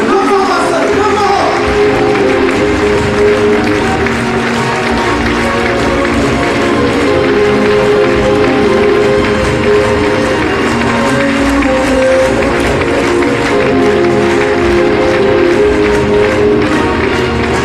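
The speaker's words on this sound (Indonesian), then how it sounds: "Mari kita berikan tepuk tangan yang sangat meriah." A seminar talk-show audience claps and cheers to welcome Bapak Agus Nugroho to the stage, a loud, dense crowd noise that runs steadily throughout with voices mixed in.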